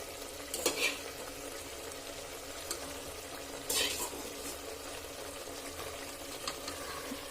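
Egg cooks in biryani masala in a pan, making a low steady sizzle. A few brief scraping and clinking stirs stand out over it.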